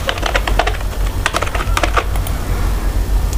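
A password being entered on a computer keyboard, heard as a close, loud run of quick, irregular key clicks with brief pauses, over steady room noise and no speech.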